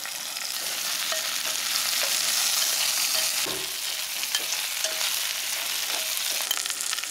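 Pre-fried banana pieces are stir-fried in a pot, giving a continuous close sizzle with scraping stir strokes and occasional light knocks, steady throughout without talk.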